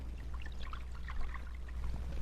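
Coffee poured from a pot into a cup at a table, a steady soft trickle running for about two seconds under a low background hum, fairly quiet and with no talk.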